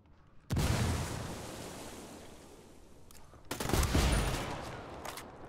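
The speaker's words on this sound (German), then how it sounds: "Granate fliegt, nehmt das." Grenade blast followed by heavy gunfire in the Ghost Recon Wildlands shooter, with two loud bursts of sustained booming and rattling fire, the second one swelling up partway through.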